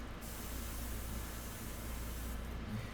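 An airbrush sprays India ink onto a portrait surface, giving a steady, quiet hiss of air and ink that runs unbroken and alone throughout.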